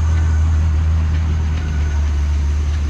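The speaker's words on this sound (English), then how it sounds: "Mr. Tom's over there making laps in the water truck." Heavy water truck running laps on a dirt race track, a steady, loud low engine drone close by that holds constant with no talking over it.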